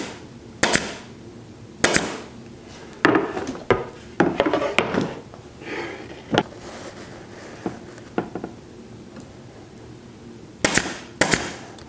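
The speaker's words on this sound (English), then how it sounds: "We'll just stretch that down and install it with half inch upholstery staples" A staple gun drives half-inch upholstery staples through a stretched carpet runner on a rocking chair seat cushion: a dozen or so sharp, loud snapping shots at irregular intervals, some in quick pairs, with soft rubbing and handling in between.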